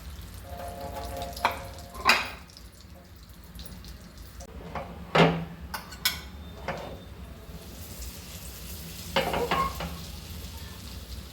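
Butter and oil sizzle softly in a pan, a low steady fry punctuated by a few sharp clinks and taps scattered across the clip.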